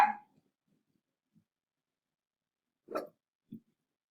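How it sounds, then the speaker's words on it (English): A dog gives a few short, muffled barks spaced apart, faint and somewhat distant, with quiet gaps between them. "my dog is barking"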